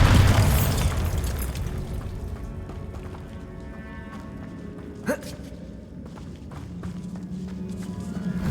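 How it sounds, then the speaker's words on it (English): Bombarda blasting spell in Hogwarts Legacy: a loud booming burst at the start that decays into rumble, followed by footsteps and a sharp crack partway through. "Bombarda!"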